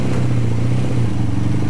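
A 1983 Honda VF400 motorcycle engine with a slightly blowing exhaust runs steadily nearby, a loud, continuous low rumble with no talk.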